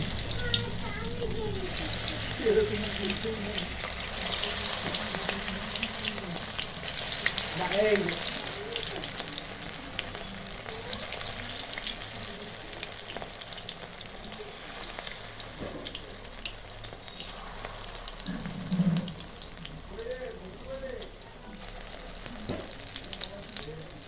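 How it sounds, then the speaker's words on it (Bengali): Vegetable pakoras fry in hot oil in a wok, giving a steady bubbling sizzle with occasional stirring and splashes, while someone talks over the cooking. "কড়াইয়ের তেলটা গরম হয়ে গেছে, এখন আস্তে আস্তে পকোড়াগুলো ছেড়ে দিচ্ছি"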